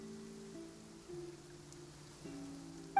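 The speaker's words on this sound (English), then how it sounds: "It's raining." Steady soft patter of rain in the video game Genshin Impact, over a low hum of background tones, with a brief bright blip near the end.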